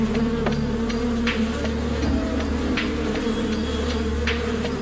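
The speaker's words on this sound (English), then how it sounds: "the bees would need to start stinging to make the other bees aggressive." A mass of bees drones in a thick, continuous buzz that stays loud and even throughout, with scattered sharper flutters and no voices.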